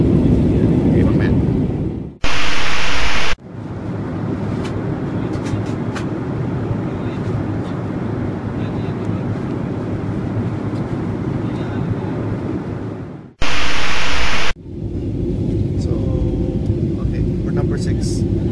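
A China Airlines Boeing 737 cabin on approach to Kaohsiung, Taiwan, while struggling to land: a loud, steady engine and airflow roar fills the cabin, broken twice by short bursts of a different, brighter noise before the roar resumes.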